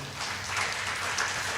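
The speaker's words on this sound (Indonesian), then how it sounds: "Tepuk tangan buat Indonesia." Congregation applauding at a Christmas church service, a steady broadband wash of clapping that holds fairly even throughout, moderately loud with a soft low hum underneath.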